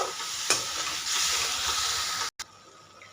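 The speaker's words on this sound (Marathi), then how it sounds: "आता आपल्याला ग्रेव्ही ना छान तेल सुटेपर्यंत आपल्याला परतून घ्यायची आहे" Masala gravy for a hotel-style green peas curry stirred and fried in oil, a steady close sizzle and hiss with a sharp scrape of the spoon and a brief break near the end.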